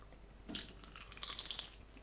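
Two crisp crunches of someone biting into a crispy kale chip and chewing, close and fairly quiet.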